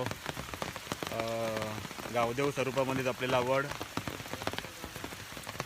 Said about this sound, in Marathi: पाऊस लागला आहे ह्याच्यामध्येच तयारी होते